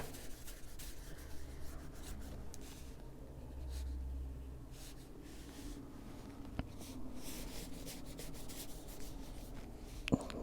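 Green coloring being rubbed onto paper in a coloring book: soft, continuous close-up scrubbing strokes with brief pauses and a few small taps, quiet and without talk.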